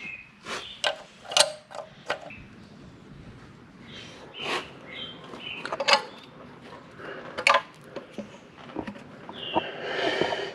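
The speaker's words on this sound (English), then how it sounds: "then we'll start pulling the bolts that hold everything together." Close, irregular metallic clicks, creaks and ratcheting turns from hand tools as bolts are loosened and pulled on a Mongo high inertia mulcher being rebuilt, with short pauses between bursts.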